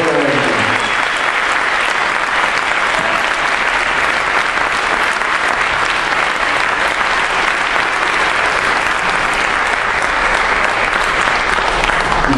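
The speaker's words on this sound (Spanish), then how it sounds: "a la cual tenemos que aplaudir fuertemente" Sustained audience applause from a crowd at a public presentation of a bill to protect the Gaumont cinema, loud and dense clapping filling the whole stretch without pause.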